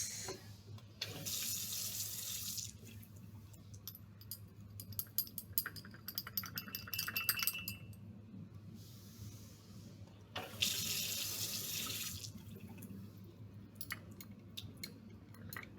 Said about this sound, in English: In between stirring them, you're going to rinse it off because you don't want to contaminate.